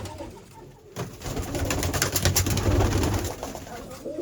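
Pigeons cooing close by, low throaty calls repeating over rustling and fluttering.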